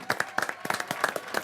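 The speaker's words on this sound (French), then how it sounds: "On applaudit." A small group claps for about a second and a half, with a steady patter of hands and no voices.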